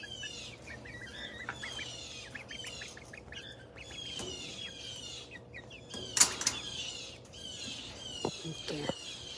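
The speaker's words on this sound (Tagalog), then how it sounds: "Nag-iingay ang mga ibon" Birds chirp and call repeatedly in a rural yard, with bright twittering throughout and a few louder calls, and there are occasional knocks and someone talking in between.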